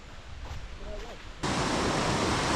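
The Tap Khola river in Khotang, Nepal, flows in a broad rushing roar. It starts softer and muffled with brief faint tones, then jumps abruptly to a louder, brighter, continuous wash for the rest.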